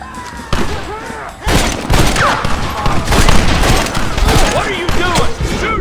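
Rapid gunfire in a Red Dead Redemption video game shootout at a gate, dense overlapping shots and thuds in a loud continuous volley with shouting voices mixed in.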